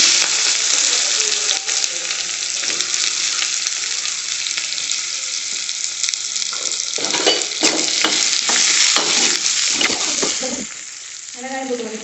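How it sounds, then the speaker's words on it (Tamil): Onions and chillies sautéing in a pan, a loud, even sizzle that runs throughout, with bursts of stirring and scraping toward the end. "மிளகாய் போட்டு வதக்குவோம்."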